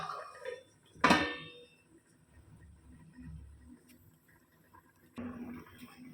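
A metal lid clanks sharply onto a pot of boiling chicken curry, one loud close clatter followed by quiet simmering and faint kitchen knocks, with another soft clunk near the end.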